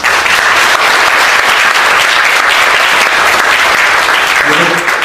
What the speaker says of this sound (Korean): 다른 동지 여러분들께 박수 보내겠습니다